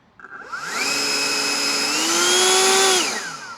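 A Toro 60V Max battery leaf blower spins up and runs at full throttle with a loud, steady whine that climbs briefly in pitch, then winds down after about three seconds, close and alone.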